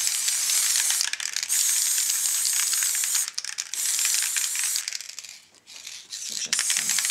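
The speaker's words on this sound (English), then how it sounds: "I'm just giving it just a tiny bit of the spray paint" A can of spray paint hisses onto a mixed media canvas in close, loud bursts, with short gaps and changes in pressure between sprays.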